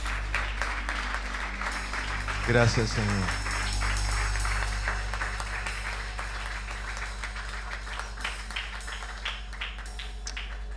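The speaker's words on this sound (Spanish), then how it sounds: "Dale un aplauso a Cristo." Applause from a church congregation during worship, heard as scattered, loosely rhythmic claps under a sustained low musical drone, with a voice speaking briefly near the start.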